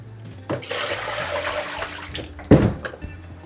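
A gold-toned photographic print is washed in water, with sloshing and splashing in a tray and a sharp splash partway through, close and moderately loud.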